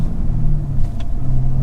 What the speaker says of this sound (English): It's not crazy loud for a V8, but it's got like that. It's got that Cadillac, yeah, like raw.